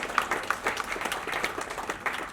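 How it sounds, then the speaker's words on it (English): An audience at the 2019 Crossword Book Awards ceremony applauds the jury, producing dense, steady clapping from a large indoor crowd that carries through the whole moment without talk. "Can we have a huge round of applause for our jury?"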